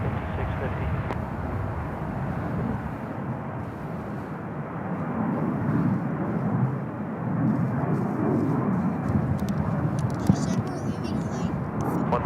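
A jet airliner rumbles through its takeoff roll on runway 28 left at San Francisco International Airport, a broad, steady roar heard at a distance over the whole stretch, with faint radio talk mixed in.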